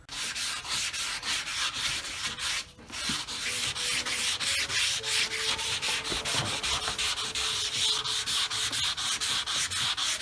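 A flat car trunk panel is block sanded wet with long 320 grit paper, giving steady rhythmic rasping strokes, close and continuous, with a brief pause partway through.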